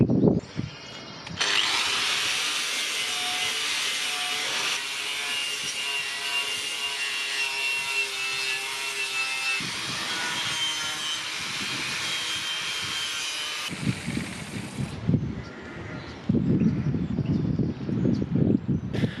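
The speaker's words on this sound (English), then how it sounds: "this is why these wire wheels, Norton from Screwfix, are good, because that was just a little hole there and all of that just came through" A Norton wire wheel on a power tool strips paint and rust from a Mercedes T1 van, grinding loudly and steadily for most of the stretch, with a few short pauses and rougher bursts near the end. No one speaks.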